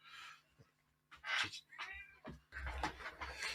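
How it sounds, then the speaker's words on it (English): A cat meows a few times in short, separate calls, fairly close, with quiet pauses and some shuffling noise between them. "Sorry, the cat's come in here."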